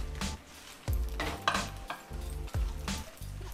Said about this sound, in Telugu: ఇప్పుడు దీంట్లోనే కొంచెం ఈ ఎండుమిరపకాయలు కూడా వేసి ఫ్రై చేద్దాం.